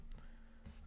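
Two quiet, close clicks of keys on a computer keyboard, spaced apart in a brief burst of typing with no voice.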